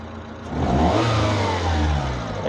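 A car engine at operating temperature revs up from idle while its MAP sensor is being tested, a close, steady mid-pitched roar that climbs and holds for a couple of seconds.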